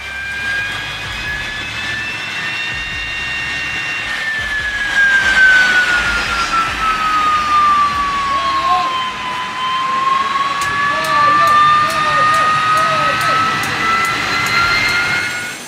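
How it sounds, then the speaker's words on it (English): A small turbine-powered truck's exhaust gives off a loud, sustained jet-like whine that swoops down in pitch and rises again over a steady roar, close by with no talk. "A small turbine-powered truck roared ferociously, its massive exhaust blazing as if ready to launch straight onto the road"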